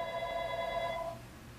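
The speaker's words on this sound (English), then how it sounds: "the phone is ringing" A telephone bell rings steadily with a bright, sustained electronic tone for about a second, then cuts off, leaving faint room noise.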